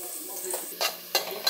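Onion browning in a pan for homemade pancake filling, a soft steady sizzle broken by a few sharp scrapes and stirs of a utensil against the pan.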